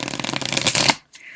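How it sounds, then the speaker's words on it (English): A deck of tarot cards riffled and shuffled up close for about a second, a dense rapid flutter of card edges ending abruptly, then a brief soft slide of cards. "Let me do one more shuffle here,"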